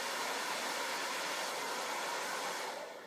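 Hair blow dryer fitted with a directioner nozzle, running steadily at close range as it dries curly hair, a constant loud whooshing rush that tapers off slightly at the end.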